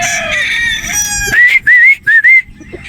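Several gamecock roosters, broodstags and battle stags, crow in close succession, loud and near, with other birds clucking and calling in the background.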